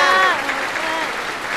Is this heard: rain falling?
no